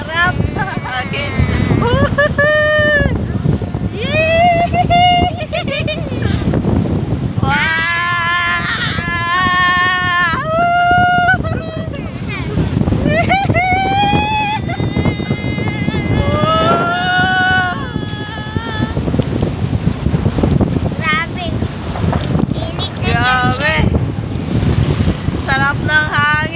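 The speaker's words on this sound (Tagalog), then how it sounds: "Sarap ng hangin." Strong sea wind gusts across the microphone at the beach, a constant loud roar with surf underneath, while people shout and talk excitedly over it throughout.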